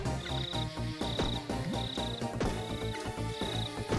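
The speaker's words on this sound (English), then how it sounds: "There's something chirping around." A chirping creature in the video game Shantae: Risky's Revenge, heard as a repeated high, brief chirp about once a second over steady, busy game music.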